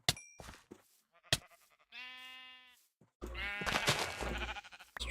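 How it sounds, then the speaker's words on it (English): Sheep bleat in Minecraft, a clear harmonic bleat standing alone amid a few game clicks and dings, followed by a burst of busier game noise. "I can see sheep over here"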